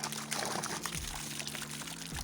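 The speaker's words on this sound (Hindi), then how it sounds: "तो हमने सोचा पहले पीने वाली जो बोतल है पानी की उसको भर लें यहाँ पे" Drinking water bottle being filled from a tap or spout outdoors, a close, steady pour with gurgling and rising tonal bubbling as the bottle fills, quiet and alone.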